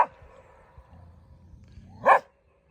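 A dog gives one short, sharp bark outdoors near a truck campsite in a Native American ghost town, after a stretch of low background noise.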